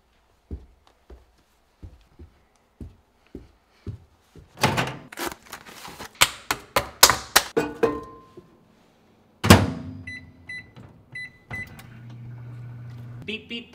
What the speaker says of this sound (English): I'm gonna go upstairs and microwave them.